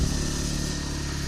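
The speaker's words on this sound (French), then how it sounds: "En programme du jour, petite visite de l'île en scooter." Scooter engine on an island tour ride, a steady close-up motor drone with a low rumbling hum and no pauses or voices.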